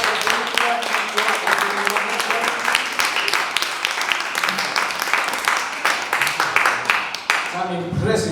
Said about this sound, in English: one big applause for all the performers